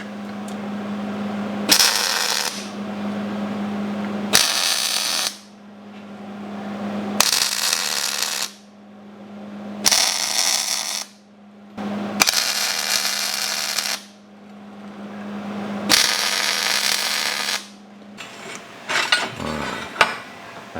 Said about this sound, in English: So I'm going to go ahead and put a couple little tack welds on there.